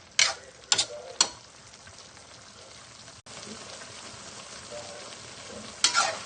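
Chicken and cauliflower stir-frying in a pan, a steady soft sizzle with a few sharp clatters of a utensil stirring near the start and again at the end, no talking.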